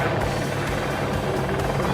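Helicopters flying overhead above a city marathon in Valencia, a continuous loud rotor thrum with a steady beating pulse filling the whole stretch.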